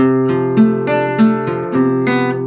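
Acoustic guitar chords strummed in a steady rhythm, about five bright strums ringing into each other, close and clear with no voices.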